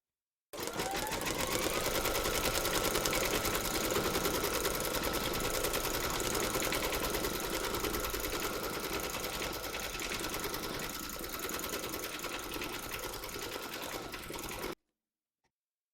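Embroidery sewing machine stitching a small heart in silver thread, a steady fast mechanical whir and needle chatter running continuously for about fourteen seconds before cutting off.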